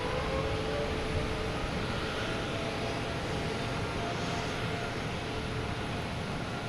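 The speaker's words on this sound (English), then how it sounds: "we have Hainan Airlines finally lined up 4 right" A Hainan Airlines jet airliner takes off from runway 4 right at Boston Logan Airport with a steady, loud, broad engine roar that holds level throughout, with no talk.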